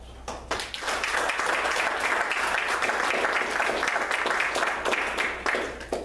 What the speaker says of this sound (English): I'd like to give you a big round of applause.